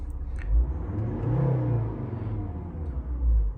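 A Volvo V60 2.0 D3 diesel engine with automatic transmission revs up and down in a few loud surges, close by and with no one talking.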